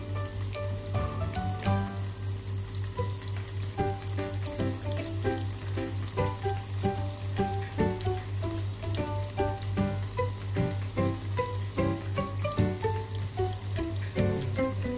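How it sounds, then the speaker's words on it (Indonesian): Tempeh in a high-protein wheat flour batter deep-fries in hot oil, giving a dense, continuous crackling sizzle up close with a steady low hum and faint tones behind it. "ketiga goreng tempe tepungnya"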